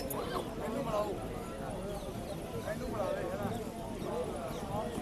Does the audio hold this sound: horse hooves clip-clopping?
yes